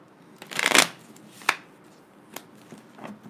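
A deck of tarot cards is shuffled close up: one quick riffling burst followed by a few sharp, separate taps and flicks of the cards.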